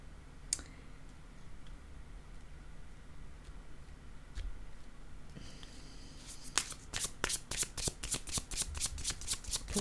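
Tarot cards being shuffled by hand: a few soft isolated taps at first, then a quick run of crisp, evenly spaced riffling clicks in the second half, close and fairly quiet with no talking.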